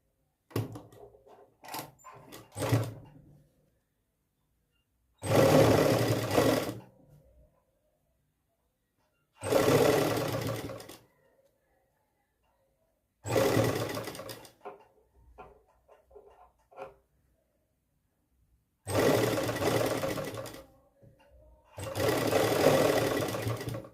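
A sewing machine stitches lace onto a V-neck patch in several loud bursts of rapid whirring, separated by quiet pauses with small handling clicks.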